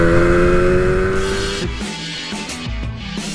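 Yamaha RD 400 two-stroke motorcycle accelerating: a loud, close buzzing engine note that holds steady, then climbs through quick gear changes with brief dips between rising revs.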